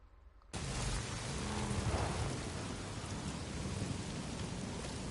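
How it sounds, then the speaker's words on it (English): Steady heavy rain begins abruptly after a moment of quiet and pours on without a break, a low rumble of thunder rolling beneath it, in the video game Days Gone. "I can't fast travel because it's raining."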